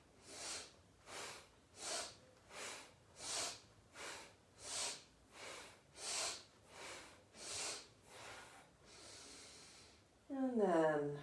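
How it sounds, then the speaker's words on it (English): Kapalabhati yoga breathing: around twelve forceful, rhythmic exhales through the nose, evenly spaced about every 0.7 seconds, close and fairly quiet, ending in a softer breath before a voice briefly speaks. "inhale, forcefully exhale."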